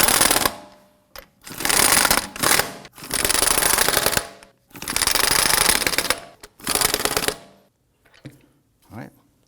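Wheel lug nuts on a 2003-2014 Volvo XC90 being snugged down during a front brake hose job, heard as about six loud, close rattling bursts of mechanical clatter separated by short pauses, fading to quiet clicks at the end.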